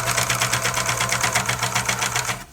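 A serger sews and trims the fabric edges of a small doll-sized raglan shirt, a fast steady mechanical whirring with rapid regular pulses, continuous and close before stopping abruptly at the end.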